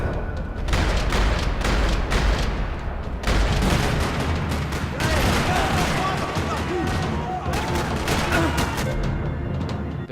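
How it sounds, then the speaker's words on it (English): Rapid bursts of gunfire crackle continuously in a parking lot in Max Payne 3, amid booming impacts and a dense, noisy background, loud and close throughout. "Another parking lot rattling with gunfire."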